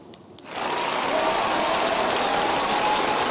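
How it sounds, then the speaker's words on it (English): Studio audience applause rises sharply after a brief quiet start and holds as a dense, even wash of clapping, close and loud to the end. "Clap, clap, clap, clap, clap, clap."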